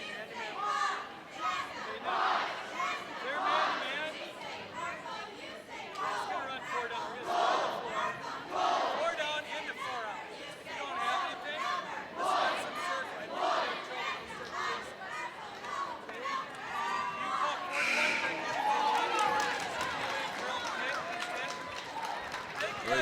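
Cheerleaders perform a cheer during a timeout at a high school girls basketball game in a gym, with rhythmic shouted chants and crowd noise filling the hall steadily for over twenty seconds.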